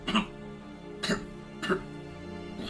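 A voice imitates a slight cough, three or four short, soft coughs spaced about half a second apart, close and fairly quiet.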